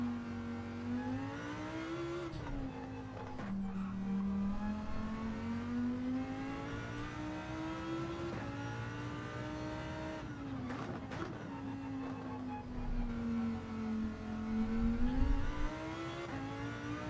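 Race car engine in Gran Turismo 7 at the São Paulo circuit, steady loud drone that drops under braking and climbs again as it accelerates, with a few brief dips, no talking.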